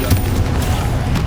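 Spell effects in Hogwarts Legacy combat: loud bursts and booming impacts in quick succession, dense and punchy over a short stretch, with no clear talk.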